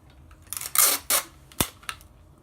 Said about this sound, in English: now I'm gonna tape it some more with this ratchet tape